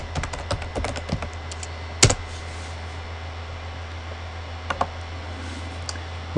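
Typing on a computer keyboard to enter an airline name into a search page, with a quick burst of clustered key clicks at the start, one sharp louder strike, then a few scattered taps over a steady low hum.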